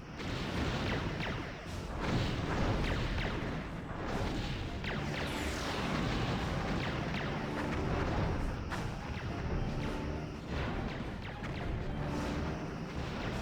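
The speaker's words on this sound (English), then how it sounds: "it looks like our torpedoes should hit" Starship torpedo hits and explosions in Star Trek Bridge Commander, a loud, continuous barrage of booming blasts and crashing impacts with sharp bursts layered over a constant roar.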